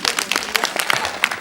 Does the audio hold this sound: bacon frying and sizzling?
no